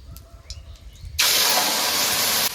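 Kulekhara greens drop into hot oil in a pan and burst into a loud, steady hissing sizzle after a moment of quiet kitchen sounds, with the sizzle holding strong and close throughout.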